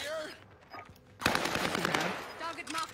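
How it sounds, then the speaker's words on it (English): Video game gunfire bursts out as a rapid, loud automatic volley after a quieter opening, carrying on for a couple of seconds with some voice faintly underneath. "He's shooting and he's gone."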